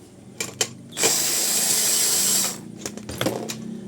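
An electric screwdriver backs a screw out of the underside of a rice cooker, one close whirring burst of about a second and a half, framed by scattered clicks and handling taps.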